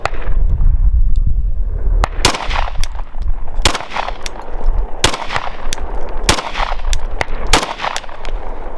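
Pistol rounds fired one at a time at orange dot targets on a shooting range, sharp loud reports spaced about a second or so apart, each followed by a brief ring against steady background noise.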